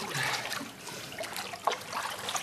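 Water spilling over from a whirlpool, a continuous trickling and splashing wash that swells and dips at moderate level with no talk over it.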